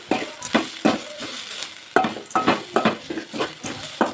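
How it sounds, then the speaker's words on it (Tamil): Tomato chutney ingredients sautéed in a pan, with repeated stirring scrapes and clinks of a utensil against the pan over a low sizzle, in a steady rhythm of close, moderately loud strokes. "இதை தனியாக தான் வதக்கி எடுத்து வச்சுக்கணும்"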